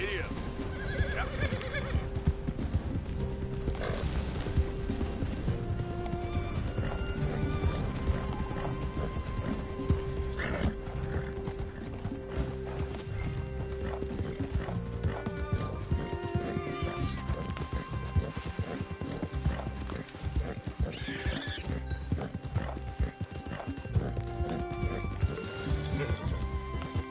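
A horse in the Red Dead Redemption 2 video game gallops with continuous rapid hoofbeats and an occasional whinny, a game score and voices running underneath throughout.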